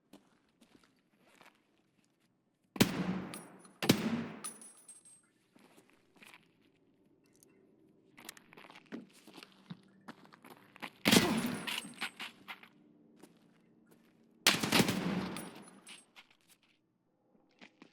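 Gunfire in a first-person shooter during the Icebreaker mission: four loud broadband bursts spaced several seconds apart, each a short volley of shots, with quiet gaps of faint movement and footstep-like shuffling between them.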